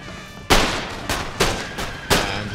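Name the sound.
musket gunfire volley in Empire: Total War video game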